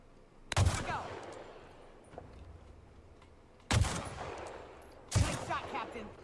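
Three loud, close gunshots ring out in The Outer Worlds, widely spaced, each with a short echoing tail over quiet background.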